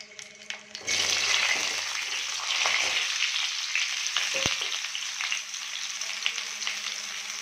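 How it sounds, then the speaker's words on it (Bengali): Potatoes dropped into hot mustard oil in a wok burst into a loud, steady sizzle after a brief quiet moment, with crackling continuing close up and a single clink of a utensil partway through. "এবার কড়াইতে আমি আলুগুলোকে ছেড়ে দেব।"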